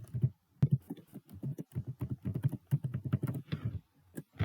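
Someone types a picture's name on a computer keyboard to search for it. The keystrokes are quick and irregular, close and fairly quiet, with short pauses between bursts and no talking.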